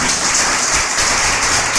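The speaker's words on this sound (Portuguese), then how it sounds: "Dê uma salva de palmas para o Senhor Jesus" Congregation at a church service clapping in praise, a loud, dense wash of applause that holds steady throughout with no voices over it.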